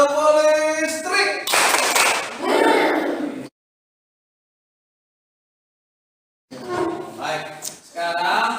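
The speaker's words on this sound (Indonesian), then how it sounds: "Kita coba tepuk listrik." A school class follows its teacher in an 'electric clap' routine. Two loud bursts of many hands clapping together are separated by a pause of silence, with voices shouting along.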